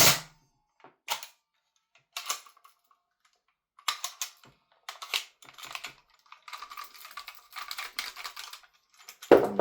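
A Northeast Mini UZI gas blowback airsoft gun firing through its magazines, heard as sharp clacking bursts, first scattered single shots and then quicker clustered strings, close and loud against near silence.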